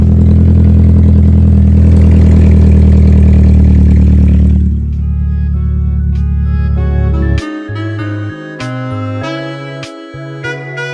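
A Toyota Tacoma pickup engine runs loud and close, first a rough deep rumble, then settling into a steady idle with rhythmic clatter.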